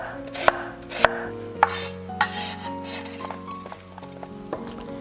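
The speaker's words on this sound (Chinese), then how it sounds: "再切成小块" A knife chops peeled Chinese iron-stick yam into small pieces on a board, with several sharp, distinct strikes followed by softer, quicker cuts, close and clear, over quiet background music.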